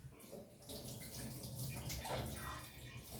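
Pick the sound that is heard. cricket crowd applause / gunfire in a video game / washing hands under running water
washing hands under running water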